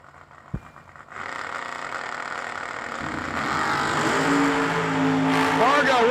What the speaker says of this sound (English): Pete DeNova out of Trinity, Florida, 67 show quality Chevy 2, 563 dial, and both of them should go wheels up.